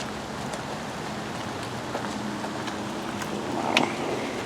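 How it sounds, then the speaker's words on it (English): Rain pours outdoors at Riverview Hospital as a constant broad hiss, steady throughout with a few faint knocks and rustles close by. "it's raining pretty hard right now"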